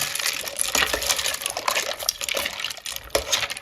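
A pot of chicken noodle soup is stirred, with continuous liquid sloshing and swirling and occasional soft knocks of the spoon against the pot, fairly loud and close.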